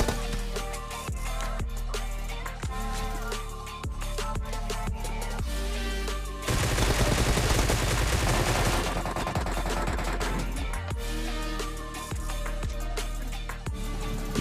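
Guns fire during a fight in a shooter video game, with rhythmic single shots that break into a dense, loud burst of rapid fire before returning to spaced shots over a steady background track.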